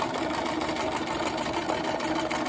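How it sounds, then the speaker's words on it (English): A free-motion sewing machine fitted with a darning foot stitches around a small shape using Madeira Supertwist thread on cold water soluble stabilizer. It gives a steady, continuous mechanical hum at an even, moderate pace. "I've got it on a free machine with a darning foot"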